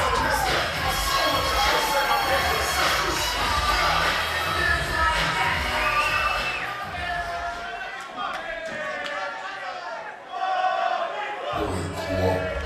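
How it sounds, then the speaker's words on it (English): A wrestling crowd in Brisbane sings and cheers for Bobby, a loud mass of voices chanting and shouting with thumps beneath, easing toward the end before a fresh burst. "The crowd already singing for Bobby"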